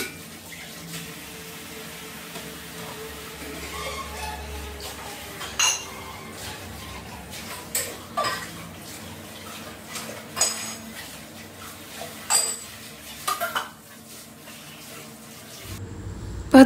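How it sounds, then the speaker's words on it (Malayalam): Tea cups and dishes washed at a kitchen sink, with a steady wash of running tap water under irregular clinks and knocks of crockery and utensils, several sharper clatters spread through, close and moderately loud. "ഞാൻ വേഗം വേഗം ചായ കുടിച്ച പാത്രങ്ങളൊക്കെ പെട്ടെന്ന് കഴുകിയെടുക്കുക"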